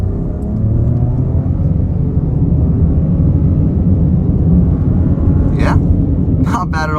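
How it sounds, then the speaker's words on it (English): 2023 Nissan Rogue S AWD with a CVT pulling away from a stop in sport mode, a loud, steady low engine rumble that holds across the clip, with brief voice sounds near the end. "Try an acceleration out off the line. We'll throw it into sport mode too."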